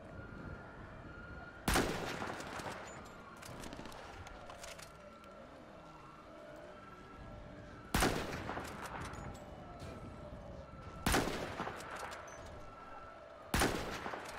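Gunfire in a GTA 5 roleplay shootout: four loud, sharp pistol shot bursts spaced several seconds apart, each ringing with echo, over a steady background of wailing police sirens and distant traffic.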